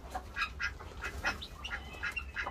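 An American duck quacks in a quick series of short, raspy calls, moderately near and fairly faint against a low background hum.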